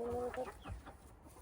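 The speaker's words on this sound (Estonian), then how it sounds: "Lähme laseme kanad välja ." Hens clucking close by as they are let out of their coop in the morning, a few short throaty clucks in a quick burst with no talking.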